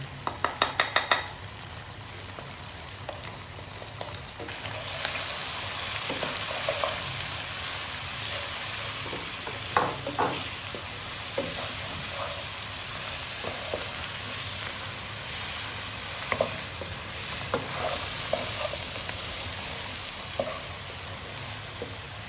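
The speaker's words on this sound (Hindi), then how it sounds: "ये मसाले भी अच्छी तरह से हमने फ्राई कर लिए हैं।" Ground coriander, red chili, salt and turmeric frying in a pan for a tinda and meat curry, a steady close sizzle with spatula scrapes and occasional metallic clinks, opened by a quick burst of taps, no voices.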